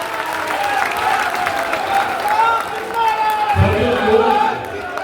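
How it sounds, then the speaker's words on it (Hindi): A crowd of party workers at a political rally claps loudly and steadily for several seconds, a dense wash of applause mixed with a voice and crowd noise. "एक बार जोरदार ताली आप लोग अपने लिए लगाए।"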